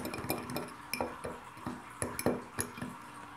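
A spoon clinks and scrapes against a bowl while stirring together a spice blend of onion powder and cayenne pepper, a run of light, uneven metallic taps and chinks, close and fairly quiet with no talking.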